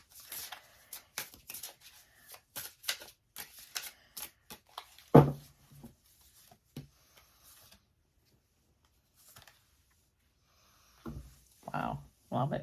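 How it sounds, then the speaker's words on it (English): Oracle and tarot cards shuffled by hand, a run of quick close slaps and riffles with one sharper knock, then a pause and a few more shuffling bursts near the end, all fairly quiet. "So let me just give a couple more shuffles."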